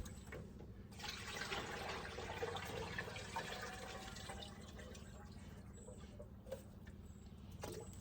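Water from a full rain butt pouring and sloshing into watering cans, a steady, close gushing rush with small drips and splashes, continuing for several seconds.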